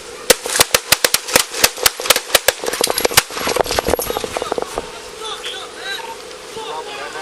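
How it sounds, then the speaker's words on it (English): Police gunfire aimed at a man seated in a car: a rapid volley of sharp, loud shots in an irregular burst over the first few seconds, thinning to scattered cracks, with shouting voices underneath. "The gun remains in Garcia's lap after the shooting."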